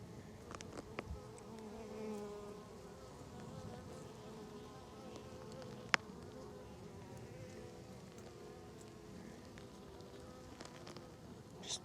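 Bees and a wasp buzz together in a steady insect drone close by, with a sharper flurry of wingbeats as the wasp attacks a bee, set among many bees on the ground.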